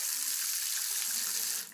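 Water runs steadily from a garden tap used for hand washing, a close, even hiss of flow that tapers off at the end.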